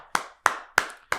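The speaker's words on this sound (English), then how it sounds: "clap for yourself" Four sharp hand claps, evenly spaced and close, ring out in a quick steady rhythm in a podcast studio, with no talking between them.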